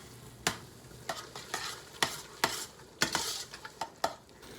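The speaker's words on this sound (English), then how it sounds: "That's just the sugar and the onions. So we're gonna cook that for a little bit longer." Onions and maple sugar cook in a pan, with a soft, constant sizzle underneath and a spoon scraping and knocking against the pan in regular strokes, close and clear, with no voices.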